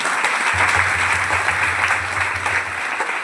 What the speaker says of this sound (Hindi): ताली बजाइए ना।